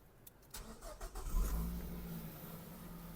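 Nissan Qashqai 2010 with a 1.6 petrol engine starting up with a short cranking burst, then settling into a quiet, steady idle close by, with no speech.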